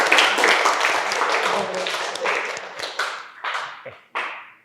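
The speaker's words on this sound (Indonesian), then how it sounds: "Oke, aplaus untuk kita semua karena udah bagus." Classroom applause at the end of a teaching session, many hands clapping in a dense, steady burst that thins out into a few scattered claps, with faint voices mixed in.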